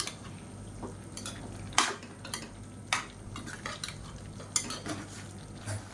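Chicken sukka cooked in ghee, stirred with roasted spice powder in a pan, gives irregular scraping and sharp spoon-on-metal clinks over a low, steady background, close by and without talk.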